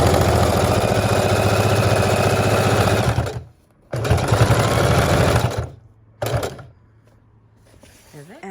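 A sewing machine runs in long steady bursts, stitching a fabric fold of a junk journal cover with brown thread, its motor humming with a fast rhythmic needle chatter, then stopping and restarting briefly before falling quiet.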